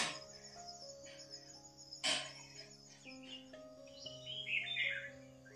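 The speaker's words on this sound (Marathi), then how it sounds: "सकाळी सकाळी पक्ष्यांचा आवाज तो का मस्त सुंदर आवाज." Morning birdsong around a village garden, light chirps and tweets at a moderate distance with a soft steady tone underneath and one sharp knock partway through.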